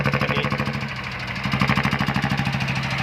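Engine of an Isan farm tractor, a small diesel-engined vehicle built with a rosewood body, running close by with a fast, steady thumping pulse, loud and continuous.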